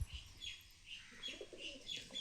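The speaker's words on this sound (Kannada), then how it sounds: "ಪಾರಿವಾಳ ಬಂದು ನೋಡ್ರಿ ಮೇಲಿಂದ" Pigeons coo softly with repeated low, gentle calls near a home where a lamb is kept, faint and fairly close with a quiet background.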